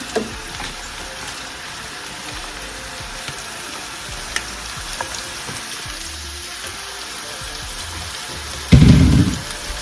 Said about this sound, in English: So now we're gonna go ahead and add these mushrooms to it.